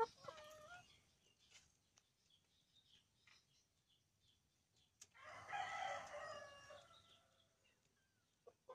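A fighting rooster gives one long crow that rises and then trails off, heard faintly at a distance after a quiet stretch with a few brief clucks.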